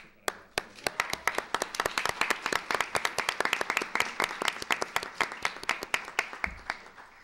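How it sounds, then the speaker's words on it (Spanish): Audience applause at the opening of an international academic colloquium on migration, globalization and schooling, steady dense clapping from a crowd lasting several seconds without talk. "Pedimos un fuerte aplauso"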